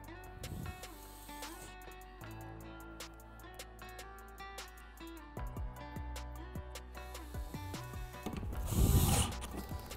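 T15 bolts with large washers being tightened into a plastic wheel liner on a Corvette C8, close rapid ratcheting clicks and rattles in bursts with a louder rustle near the end.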